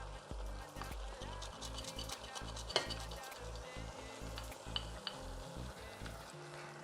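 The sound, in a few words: stirring chicken in a pan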